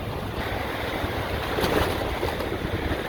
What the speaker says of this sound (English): Makes sense of all the waves coming in.